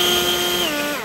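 A Greenworks cordless leaf blower runs at full trigger with a loud, close, steady high-pitched motor whine and rushing air, pitch dipping slightly near the end, with no talking.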